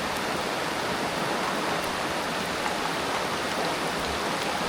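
Rain falling as a loud, dense, unbroken hiss that holds at an even level throughout, with no talking and no distinct separate drops.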